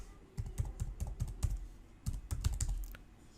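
Keys clack on a computer keyboard as a domain name is typed, a close run of quick, distinct strokes in two bursts with a short pause between them.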